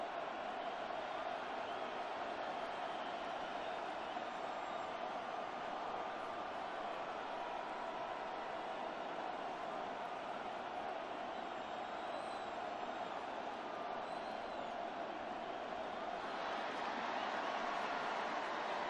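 A stadium crowd roars in the video game Madden NFL 26, a dense, steady wash of cheering and noise that holds at an even level throughout, with no clear separate voices.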